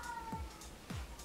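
A cat lets out two odd, drawn-out meows that slide downward in pitch, faint and close together, over a quiet indoor background.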